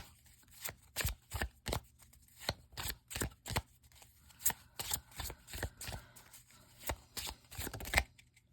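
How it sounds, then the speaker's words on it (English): Tarot cards are shuffled by hand in a steady run of crisp, riffling slaps and flutters, close and fairly quiet, with no talk over them. "Oh, I think a bunch of cards just flipped over."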